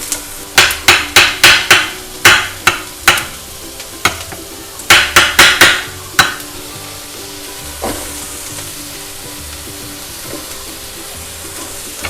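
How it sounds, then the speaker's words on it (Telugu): Vegetables stir-frying for duck noodles, with a string of sharp metallic spatula knocks against the pan in quick clusters over a steady sizzle, close and loud, then quieter frying. "ఇవి బాగా ఫ్రై చేసుకోవాలి"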